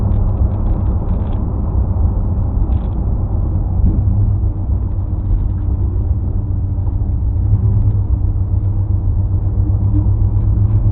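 A 1956 Packard's engine rumbles steadily as the car drives, a loud continuous low drone with slight swells in revs throughout, no voices.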